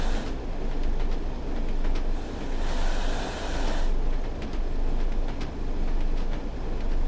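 A Class 101 diesel train in the game Train Sim World 2020 rumbles steadily along the track, with repeated wheel clicks and a broad hiss of air brakes rising mid-clip, and no voices.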